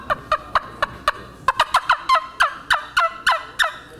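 A turkey trumpet call imitates a turkey with about a dozen sharp yelps. They come close and clear in a steady, slightly quickening rhythm, with nothing else heard.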